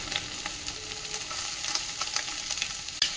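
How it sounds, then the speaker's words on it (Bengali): Peas are stirred into lightly fried vegetables in a pan while cooking a vegetarian pulao. A continuous close sizzle runs under scattered soft stirring scrapes, and a sharper knock comes near the end. "মটর কলাই দিয়ে আর একটু নাড়াচাড়া করে নেবো"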